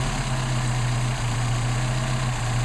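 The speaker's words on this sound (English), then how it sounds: "Now that's not too bad for a cold engine." A cold Mercedes 190SL engine on Solex carburetors runs at a steady, loud idle up close, a continuous low rumble with a constant hum and no voices.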